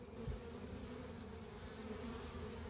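Honey bees buzz steadily around a healthy hive, a dense continuous hum of many insects close by with no voices.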